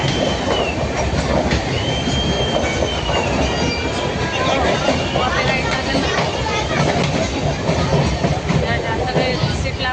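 A passenger train coach rolls into a busy station platform, with a loud continuous rumble, clattering wheels and squealing steel, all under crowd chatter and nearby voices.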